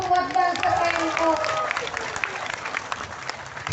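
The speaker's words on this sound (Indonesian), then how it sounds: "Tepuk tangan dulu dong buat Banser NU." A crowd at a large open-air Islamic pengajian gathering in Penarik, Mukomuko breaks into applause for Banser NU, a short burst of scattered clapping that starts just as a voice over the sound system fades.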